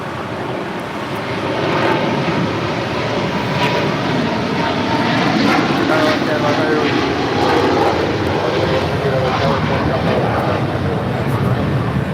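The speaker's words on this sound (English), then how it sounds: "This is China Eastern Airlines 586 taking off to Shanghai on a 777-300ER." Broadband roar of a China Eastern Boeing 777-300ER heavy jet taking off from LAX, a steady loud rumble swelling gently across the whole stretch, with faint radio and voices underneath.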